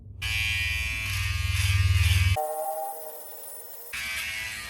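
Electric clippers buzz up close while fading a beard, a loud steady motor whine that pauses briefly and shifts in pitch as the clippers are adjusted or switched off and on.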